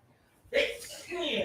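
A single sharp sneeze bursts out close by, followed by a brief noisy exhale.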